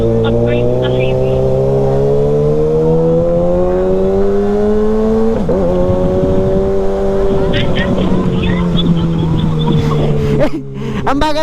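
Kawasaki ZX6R sport bike cruising on a highway, its engine a loud steady drone that climbs and dips in pitch with the throttle, close up, with people talking over it.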